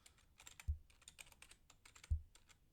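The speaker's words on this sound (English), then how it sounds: "So here you type your card details." Card details being typed on a computer keyboard, quiet close key taps in irregular bursts with two heavier thumps, likely the space or enter key, and no voices.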